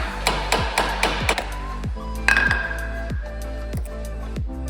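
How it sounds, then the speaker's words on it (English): A hammer strikes a punch to drive out a dowel pin on a shifter assembly of an LS-swapped Nissan 350Z, about a dozen sharp metallic taps at a steady pace, close and ringing. "we're actually gonna grab a punch and a hammer and we're gonna slide this back here"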